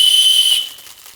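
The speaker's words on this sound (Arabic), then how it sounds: "صفارة الحكم لما الحكم يصفر." A referee's whistle gives one sharp, shrill, close blast that stops abruptly about halfway through, leaving quiet.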